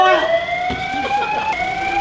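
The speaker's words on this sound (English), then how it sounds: "we're kicked out of the shop because of the fire alarm" A building fire alarm blares in a shop, a steady, loud, piercing electronic tone that holds continuously throughout, close and alone without talk.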